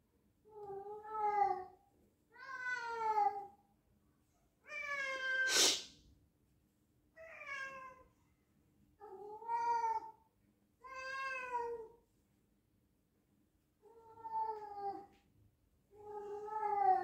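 A male cat howls and meows in long drawn-out calls, about nine separate cries spaced a second or two apart, loud and close, with no one talking.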